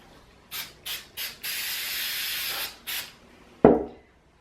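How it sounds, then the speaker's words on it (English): An aerosol can of spray adhesive sprays onto fabric in short hissing bursts, then one long sustained spray, another brief burst, and a sharp knock at the end. "I'm gonna spray some tack on the next piece."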